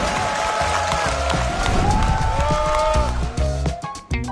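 Enthusiastic audience applause and cheering at a People Power Party lawmakers' conference attended by President Yoon Suk-yeol, loud, continuous clapping from a large crowd that briefly dips near the end.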